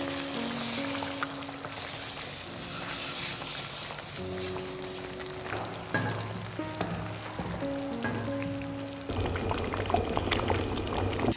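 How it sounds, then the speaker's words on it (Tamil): Corn semolina is poured into a pot of boiling water for a breakfast tiffin dish, giving a steady rushing pour over bubbling and sizzling, with a louder surge near the end. "தண்ணி கொதிச்சிருச்சு நம்ம ரவையை சேர்த்துக்கலாம்"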